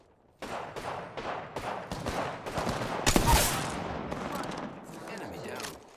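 Rapid automatic gunfire in the video game Apex Legends, dense overlapping shots for several seconds with one louder close burst midway, then fading to scattered shots.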